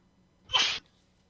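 A single sharp human sneeze, close and fairly loud, lasting about a quarter second against a quiet room background with no talking.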